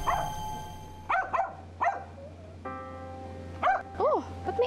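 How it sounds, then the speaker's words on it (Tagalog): A dog barks several times in short yelps and whimpers over a steady low hum, with voices talking in between during a scene from a Filipino drama series. "Oh, ba't may aso na dyan?"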